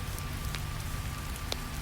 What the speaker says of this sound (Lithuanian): Lietus čia girdisi aiškiau.